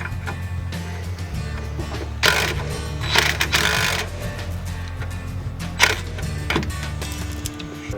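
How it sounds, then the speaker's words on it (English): An impact wrench tightens a coilover bolt on the rear suspension of a Mitsubishi Evo X, giving several loud rattling bursts over a steady workshop hum, with the sharpest burst near the end. "So we're using the impact wrench again, and then just a regular wrench on the other side."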